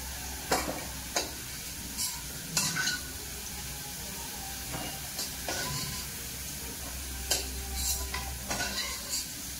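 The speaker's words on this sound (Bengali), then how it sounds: "এবার কেটে ধুয়ে রাখা আলুগুলো ভেজে নেব।" Potatoes frying in hot oil in a wok, a steady sizzle with repeated scraping strokes of a spatula against the pan, close and fairly loud.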